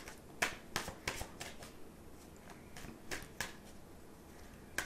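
Tarot cards are shuffled by hand in a string of quick, close, crisp riffling snaps, irregularly spaced and fairly quiet, with no talking.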